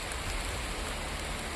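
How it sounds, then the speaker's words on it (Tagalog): Steady rain falls outdoors in a constant, dense hiss of drops on surfaces, fairly close and unbroken, with no talk. "May bagyo ata. Palagi mo ulan."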